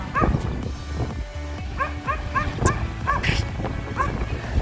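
A small dog yaps repeatedly in quick, high-pitched bursts, close by on a beach in Odesa, with some whimpering between barks and faint background noise.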